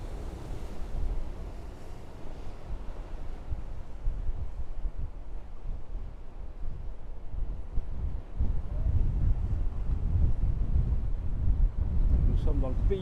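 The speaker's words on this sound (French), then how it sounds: "on a un peu d'air là, il y a un 15 nœuds établi" A steady 15-knot wind blows across a steel sailboat, heard as continuous low rumbling buffeting and gusty microphone wind noise that swells slightly toward the end, with no clear voices.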